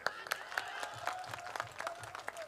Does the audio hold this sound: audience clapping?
yes